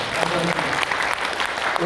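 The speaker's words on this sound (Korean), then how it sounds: "박수 좀 부탁드리겠습니다." A hall audience at the 72nd regular general assembly of the PEN International Korea Center breaks into steady, dense applause that fills the room evenly from start to finish, with no voices on top.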